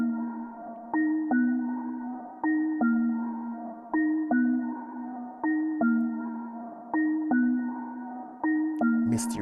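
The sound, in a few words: bell percussion in a riddim beat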